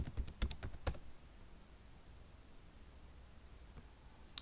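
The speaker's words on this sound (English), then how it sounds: "Type your password." Password keystrokes on a computer keyboard, a quick run of sharp clicks in the first second, then near silence, with a couple of faint taps near the end.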